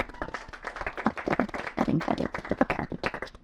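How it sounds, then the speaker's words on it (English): A small conference audience gives dense, steady hand clapping for the event's sponsors, close and continuous for a few seconds without talk. "So I think to applaud them."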